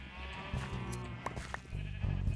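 Minecraft sheep give a few short bleats, near and clear, scattered over a low steady in-game background, with no voices.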